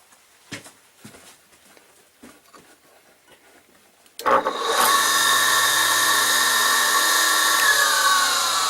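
A Blackstone X02 skate sharpener with a belt drive starts up after a few quiet knocks and clicks. It spins up suddenly into a loud, steady, high-pitched whine that holds close and continuous for the rest of the clip.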